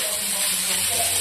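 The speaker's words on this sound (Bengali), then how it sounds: "এবার একসাথে সব গাজর বিট একসাথে ভাজা হবে ভালো করে।" Carrots and beetroot frying together in a pan give off a steady, close hiss and sizzle with no break across the short stretch.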